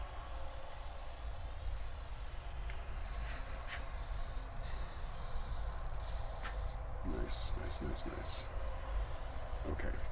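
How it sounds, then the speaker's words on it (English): A spray paint can with its cap pressed only lightly sputters and hisses in short, uneven bursts, close and fairly quiet, with brief pauses between spurts over a steady low background. "barely press on the cap until it starts to sputter"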